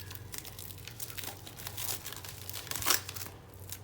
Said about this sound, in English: before we make a hole, we should remove the plastic.